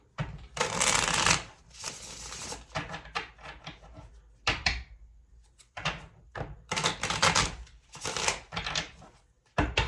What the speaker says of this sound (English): Let's pull some more cards here